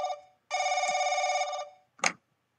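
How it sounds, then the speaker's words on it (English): Telephone ringing in the horror video game The Crooked Man, a clear electronic ring sounding in a short burst and then a longer sustained burst, followed by a brief click or thud, alone with no talking. "Telephone ringing."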